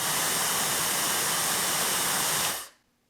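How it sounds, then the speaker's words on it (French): A soft, airy rush from a Dreame Hair Glory hair dryer blows evenly with a smooth hiss, then cuts off abruptly, leaving near silence. "J'ai rarement entendu un sèche-cheveux qui fait aussi peu de bruit."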